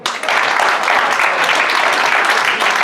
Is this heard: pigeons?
no